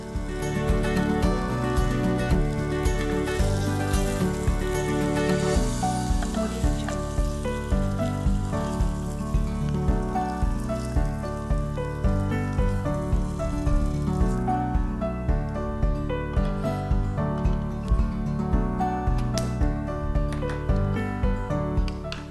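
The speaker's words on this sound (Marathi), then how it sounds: "मस्त असं गोल्डन पनीर शॅलो फ्राय झालेलं आहे" Golden paneer shallow fries in a pan with a continuous crackling sizzle. Steady tonal background music plays over it throughout.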